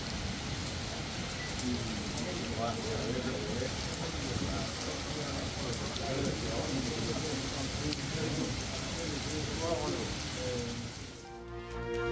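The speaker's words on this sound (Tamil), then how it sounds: "ஒடிசா மாநிலம் புவனேஸ்வர் உள்ளிட்ட நகரங்களில் கொட்டி தீர்த்த கனமழை" Heavy rain driven by strong wind pours down on Bhubaneswar, Odisha, a steady, dense hiss of drops hitting surfaces that holds at an even level throughout before easing slightly near the end.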